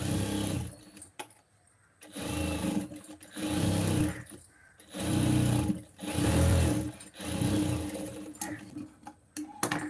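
Sewing machine stitching the lining of a blouse, running in several sustained bursts separated by short pauses, close and fairly loud with no talk.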